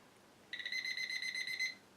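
A liquid level indicator hooked on a cup beeps once the water reaches its middle prong, a single steady electronic tone about a second long, close and clear against a quiet room.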